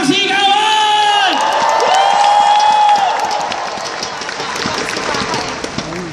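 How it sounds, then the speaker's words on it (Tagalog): Audience at a corporate success-story event applauds loudly, with whoops and shouted cheers rising over the clapping, then thinning to a steady patter. "Lahat ng payaman, pumalakpak ng may kasawang sigawan!"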